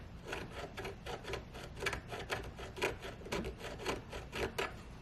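An engineered hardwood flooring sample gets scratched with quick repeated rasping strokes, close and fairly faint, in a steady back-and-forth rhythm with no talking.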